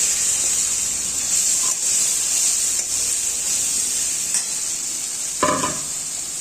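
Bottle gourd kofta curry masala is sautéed in a pan, giving a continuous soft frying hiss with occasional stirring scrapes and one brief louder clatter near the end, with no voices.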